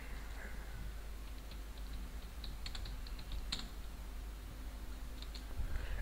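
Rapid, uneven clatter of keys being typed on a laptop or desktop computer keyboard, close by, with brief pauses between bursts over a low steady hum.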